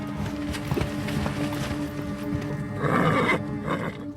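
Horses whinny and snort amid a busy outdoor scene, with a louder neigh near the end and faint hoof sounds underneath.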